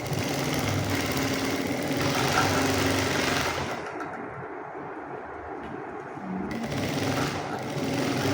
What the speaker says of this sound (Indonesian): Kita akan jahit sampingnya dulu 2 cm.